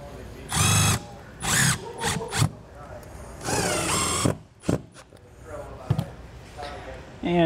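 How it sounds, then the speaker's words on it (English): Power drill driving the supplied screws into a solar-powered plumbing vent cover on a motor home roof, several short whirring bursts with gaps between them, close by, with speech around the bursts. "and just shoot those screws down."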